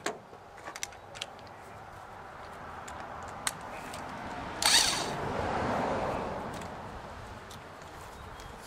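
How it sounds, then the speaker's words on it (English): A gear puller working on the flywheel of a Honda 15 hp four-stroke outboard gives faint scattered mechanical clicks, then a sharp close metallic crack near the middle, followed by a brief grinding swell that fades. "now I'm going to attempt to pull that flywheel"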